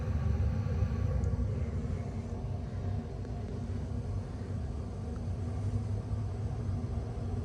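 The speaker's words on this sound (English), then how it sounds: "blower motor just turned on, and now it's pumping heat throughout the house" A brand-new 2022 Goodman gas furnace blower motor runs steadily, giving a continuous low, even rumble and whoosh of moving air that holds at a constant level throughout.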